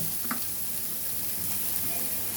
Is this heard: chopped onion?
yes